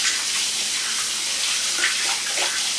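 Warm tap water runs steadily into a mixing bowl being washed in a sink, a close, bright continuous gush with small splashy shifts and no voices.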